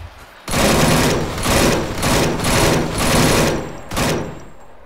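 Rapid bursts of automatic gunfire from a weapon in the video game Arma 3, loud and close, coming in five or six sustained volleys separated by brief pauses.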